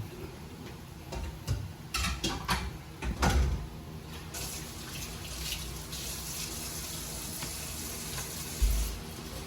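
Fish sizzles and crackles in hot oil with steady frying hiss, punctuated by a few clattering knocks and bumps nearby.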